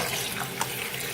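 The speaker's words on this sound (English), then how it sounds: "I'm just gonna drain the water off, and I'm gonna pour it all in the hot water." Water drains from rinsed saltfish into a kitchen sink, a steady rushing pour with one small splash partway through.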